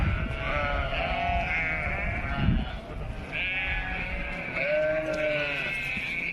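Several sheep bleat repeatedly, overlapping wavering cries from nearby, some loud and others farther off, over a soft outdoor background.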